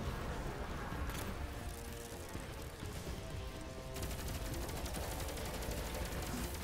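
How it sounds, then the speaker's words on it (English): Rapid automatic and burst gunfire in the video game Destiny 2, a dense continuous fusillade of shots that stays loud throughout, with no talking. "He's shooting at you guys."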